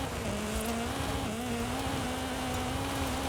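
Turbocharged engine of an Audi RS2 Avant in Forza Horizon 5, driven on dirt, holds a steady, loud drone whose pitch climbs gradually as it accelerates, with no talk over it.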